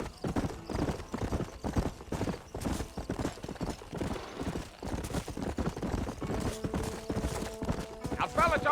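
A horse gallops in the Red Dead Redemption video game, with fast rhythmic clip-clop hoofbeats running throughout, close and fairly loud, and a brief neigh near the end.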